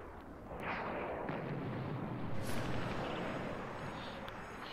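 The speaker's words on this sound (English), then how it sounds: "Oh my god, explosions!" Continuous rumbling explosions roar steadily for several seconds, a dense noisy blast texture with a few sharper bursts on top, from the video game Splinter Cell: Double Agent.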